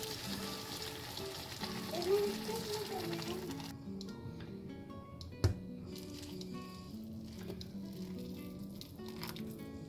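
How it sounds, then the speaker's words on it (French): Vegetable broth hits a hot frying pan, and a soft sizzle and bubbling settle under a low tonal hum, broken by one sharp clink midway. The sizzle stays faint and fairly distant. "on va ajouter notre bouillon de légumes directement dans le poêle"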